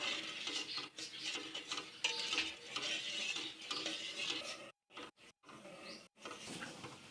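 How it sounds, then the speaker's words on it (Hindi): A spoon stirs kadhi batter in a pot over the heat as it comes to a boil, with continuous scraping and swishing and a few brief pauses between strokes. "बॉयल आने तक हम इसे हिलाते रहेंगे ताकि इसके अंदर गुठलियाँ ना बन जाएं।"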